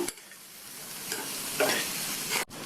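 Onion fries with potatoes in a pan, a steady close sizzle with stirring scrapes that rise midway, then a brief drop before the frying carries on.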